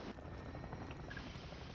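A steady, continuous whir of helicopter rotors in the video game Warzone 3 drones on without letup, dense and moderately loud, with no voices.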